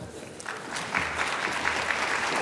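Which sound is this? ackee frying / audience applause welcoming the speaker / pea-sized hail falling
audience applause welcoming the speaker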